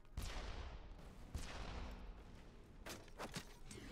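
Gunfire in Borderlands 2 from a Lightspeed Zero weapon, a cluster of sharp cracks near the start and a few more bursts near the end, over a dense, noisy game mix.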